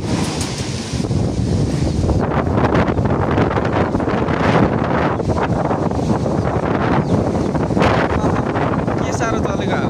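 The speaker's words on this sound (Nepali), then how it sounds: "हावा लास्टै चलेछ आज" Strong wind roars steadily across a microphone outdoors near a jungle hut, a loud continuous buffeting rumble lasting throughout, with voices talking over it.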